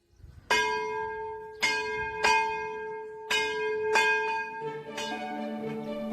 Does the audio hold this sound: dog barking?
no